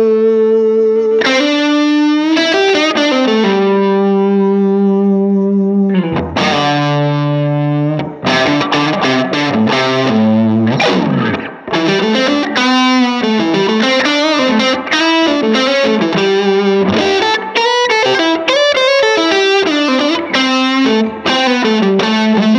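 A 1959 Gibson Les Paul Standard electric guitar is played through a Matchless King Cobra amplifier, heard as continuous distorted chords and fast lead runs with chorus and echo effects, loud and alone throughout with no talking.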